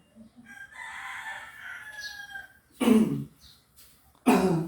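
A rooster gives a few rough, throaty coughing bursts, loud and close, after a stretch of softer high chirping in the background.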